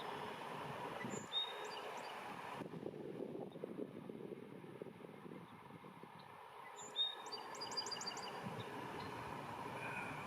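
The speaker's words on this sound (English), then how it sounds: "Song sparrow." A song sparrow sings in the open in spring: a few brief bright trilled phrases, faint and at a distance, over a steady low rumble of passing traffic or a train.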